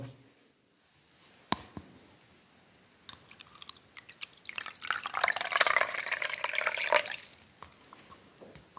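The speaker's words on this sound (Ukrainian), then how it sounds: "Відгадали? Так, це вода." Water sounds played for a children's guess-the-sound activity: scattered drips and clicks at first, then a louder rush of pouring or running liquid that swells in the middle and fades, with no talking.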